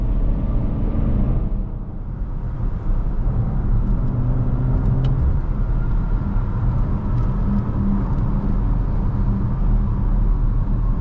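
Steady loud engine drone and road roar inside a 2020 BMW X5M Competition SUV as it accelerates, a continuous low rumble with tire and wind noise filling the cabin, no voices.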